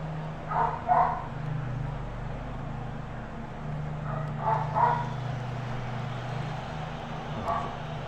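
A dog barks in short clustered bursts, two or three yips at a time, repeating a few times over a low steady hum, moderately close.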